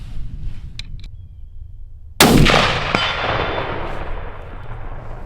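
A single sharp rifle shot with a 58-grain bullet cracks out loudly on a Black Hills hunt in South Dakota, followed by a fading echo and a faint metallic ring from the distant target.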